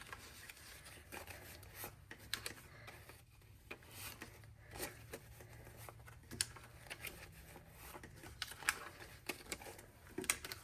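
Five-dollar bills are shuffled and flicked by hand, a steady run of soft rustles and crisp little snaps, close by with no talking.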